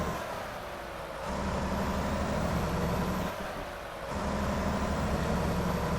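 A truck engine in American Truck Simulator drones steadily, dropping briefly in pitch twice as gears change and then climbing again, loud and continuous with no voices.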